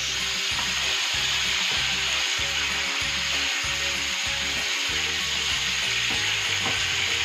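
Pork slices sear in a very hot pan for tomato-and-pepper pork, a loud, steady sizzle filling the whole stretch, with faint low knocks and clatter beneath and no talking.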